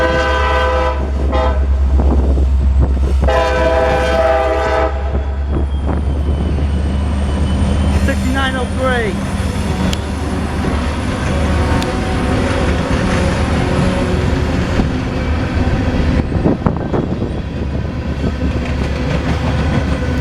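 Local freight train L38 passes in Marion, Ohio, opening with loud horn blasts, then a long close rumble and clatter of freight cars with a few brief squeals.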